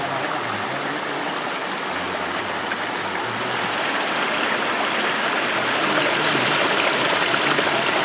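Hot spring water pours from the cliff side of the Angam River in a steady, close, continuous rushing stream that holds even and loud throughout, with no voices.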